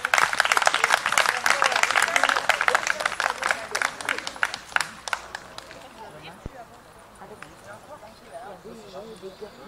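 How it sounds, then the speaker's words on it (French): Audience applause at a podium ceremony for pigeon racing winners, brisk clapping that is loud at first and thins out after a few seconds, with a voice talking as it fades. "Applaudissements, je prie."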